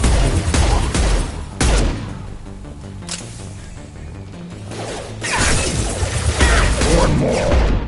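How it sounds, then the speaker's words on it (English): High-impact gunshots in Mass Effect 2 crack out as loud, broadband blasts, with heavy bursts at the start, a cluster of crashing impacts near the end, and quieter combat clutter in between. "Firing a high-impact shot!"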